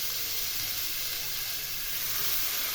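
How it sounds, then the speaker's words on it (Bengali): Pumpkin pieces and a few prawns fry in hot oil with five-spice in a wok, giving a steady, even sizzle and hiss that stays constant throughout with no talking. "কুমড়োগুলো একটু ভেজে নিয়ে কয়েকটি চিংড়ি মাছ দিয়ে দিলাম।"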